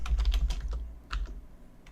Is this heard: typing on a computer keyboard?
yes